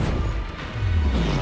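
Spell impacts crash and smash during Hogwarts Legacy combat on PS5: a booming, rumbling blast that swells and lingers, heavy in the low end.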